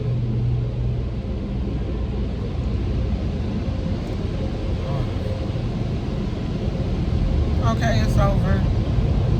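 Automatic car wash machinery and drying blowers heard from inside a car, a steady loud broadband roar and rumble throughout, with people talking over it.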